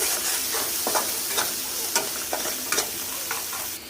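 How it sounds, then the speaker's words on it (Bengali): Ginger garlic paste is sautéed with chili, cumin, turmeric and salt powders and whole spices in a pan for beef pasta, giving a steady close sizzle broken by a run of sharp scraping stirs, with no voices. "আদা রসুন বাটা মরিচের গুঁড়ো লবণের গুঁড়ো জিরের গুঁড়ো হলুদের গুঁড়ো গোটা মশলা ভালো করে কষিয়ে নিতে হবে"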